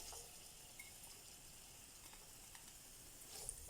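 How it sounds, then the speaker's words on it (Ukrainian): Sliced onion sizzles softly in hot vegetable oil in a frying pan, a quiet, steady frying hiss with occasional small pops, heard alone. "вливаємо рослину олію, розігріваємо і вкидаємо цибулю"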